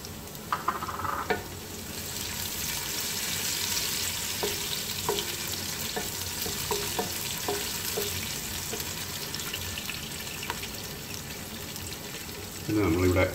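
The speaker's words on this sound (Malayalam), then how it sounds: "അതിലേക്ക് നമുക്ക് ഈ അരിഞ്ഞു വെച്ചിരിക്കുന്ന പച്ചമുളകും കൂടി ഇട്ട് കൊടുക്കാം." Chopped green chillies hitting hot oil in a pan for mutton curry, a steady loud sizzle with scattered stirring scrapes and clinks running throughout, and a louder burst of frying near the end.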